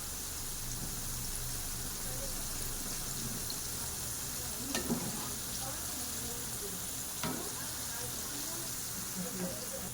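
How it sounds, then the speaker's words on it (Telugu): Chicken popcorn deep-fries in oil over a medium flame, a steady, soft sizzle and hiss with a couple of sharper pops or clicks along the way. "మీడియం ఫ్లేమ్లో పెట్టుకుని ఇవి చేసుకుంటే ఇప్పుడు క్రిస్పీగా ఫ్రై అవుతాయి."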